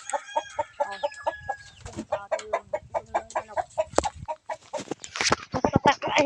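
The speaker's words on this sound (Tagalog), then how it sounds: "Tapos may manok." Several chickens cluck busily and continuously nearby, with rapid rhythmic clucks and a few louder squawks toward the end, with ducks also present.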